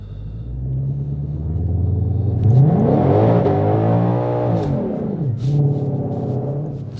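Ford Mustang GT500 engine revving with line lock engaged, a loud nearby rumble that rises and swells in pitch, peaks, then drops back, with no voices over it.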